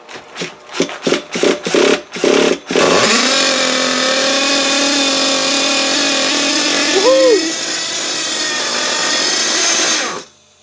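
A Thunder Tiger ST-1 RC car's small nitro engine, run for the first time in many years, sputters through a few pull-start bursts, then catches and holds a loud, high, buzzing idle before cutting off.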